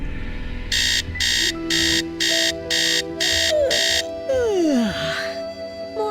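An alarm clock rings in a Nancy Drew video game, seven loud, evenly spaced electronic buzzing beeps, followed by sweeping tones and a brief burst of game sound.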